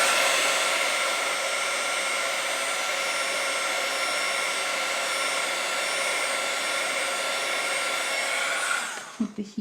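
A heat gun blows steadily for papercraft embossing, a continuous close airy roar with no change until it cuts off abruptly near the end, followed by a few faint handling knocks.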